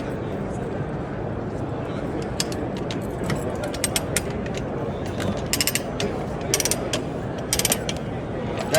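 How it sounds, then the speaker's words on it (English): Ratchet handle clicking on a Rabaconda street tire machine while a tire is worked off the rim, bursts of sharp ratcheting clicks over a steady low mechanical rumble, with voices talking nearby. "And then we use the same handle on the ratchet system."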